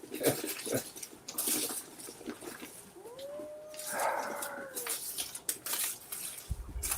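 A dog howls in a long, rising-then-falling wail lasting a couple of seconds, clear and mid-distance, with scattered background noises and bumps around it.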